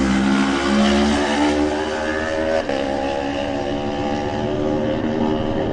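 A lightweight-class TT race motorcycle screams past and speeds away down the road toward St Ninians, its loud, high-revving engine note holding steady and then slowly fading into the distance with no talk over it.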